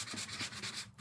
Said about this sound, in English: And let's just sand it.